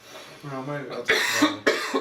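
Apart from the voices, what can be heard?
cough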